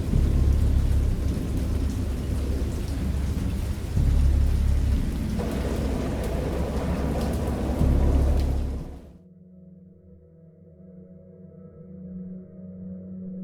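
Heavy thunderstorm rain pours with deep rumbling thunder swelling through it, loud and close, before cutting abruptly to a quiet low hum.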